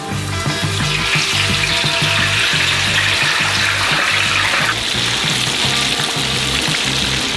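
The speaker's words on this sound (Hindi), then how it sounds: "हम अपने आलू को गरम तेल में डुबोएंगे।" Potato pieces are dropped into hot oil in a large homemade deep fryer and bubble hard in a loud, continuous sizzle close by. A lower pulsing rumble runs underneath, and no one speaks.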